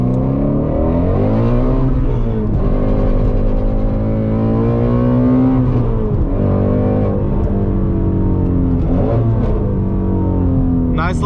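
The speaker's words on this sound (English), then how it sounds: "nice little heel toe downshift right there" Shelby GT350 V8, a racing-derived motor, heel-toe downshifting: a loud, steady engine drone whose pitch dips and swells during the downshift, close and continuous with no talk.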